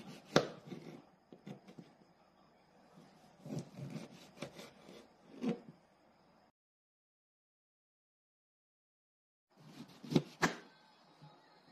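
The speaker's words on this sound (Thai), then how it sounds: "หั่นมะกรูดหลีกเลี่ยงแกนกลางเพื่อไม่ให้โดนเมล็ด" Kaffir limes are sliced with a knife on a cutting board in quick bursts of crisp chopping, a pause of silence, then a few more close, sharp cuts.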